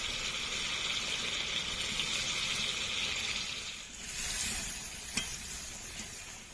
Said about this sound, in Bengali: মাংসটা কষা কষা রান্না করবো, তাই অল্প করে জল দেবো।